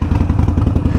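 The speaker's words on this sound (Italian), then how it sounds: "Mi preparo, salgo in moto e si parte." A motorcycle engine at the Passo Giau mountain pass in the Dolomites, heard close and loud as a rapid, steady chugging pulse for about a second.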